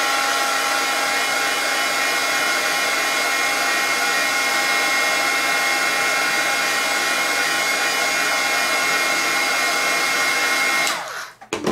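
A hair dryer blows steadily on a gloss-varnished image transfer on paper, a loud constant whoosh running unbroken for about eleven seconds before it cuts off abruptly.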